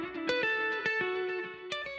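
An effected electric guitar plays the lead melody, a bright sustained line with picked notes and accents drenched in distortion and reverb, alone and up close.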